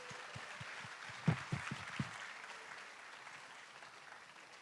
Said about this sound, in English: Let's give them all a big round of applause for making it through the first quarter.